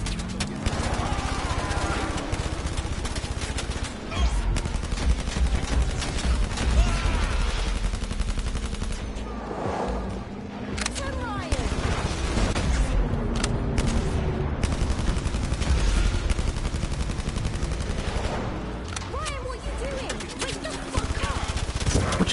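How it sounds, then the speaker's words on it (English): Constant gunfire from shooting in the PSVR video game Blood & Truth, dense rapid bursts and crashing impacts filling the whole stretch, loud and close, with no letup. "I'm shooting everyone!"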